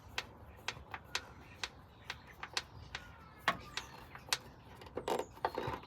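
A clip fastener being screwed in during car repair, a series of quiet, rhythmic ratcheting clicks in close succession, with a few louder knocks near the end.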